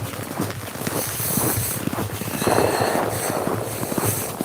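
Firecrackers set off outdoors during a Thai celebration: dense, irregular crackling pops, fairly loud and continuous, with wind noise buffeting the microphone.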